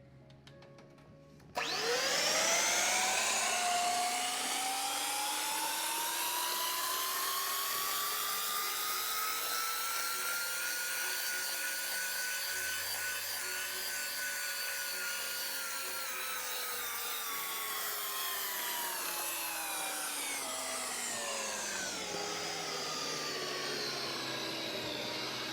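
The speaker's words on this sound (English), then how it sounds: "After that, I'm going to mix it again." An electric mixer working Hawaiian bread dough, its motor whining steadily and close for about twenty seconds, the pitch rising slightly and then easing back before it carries on, with no talk.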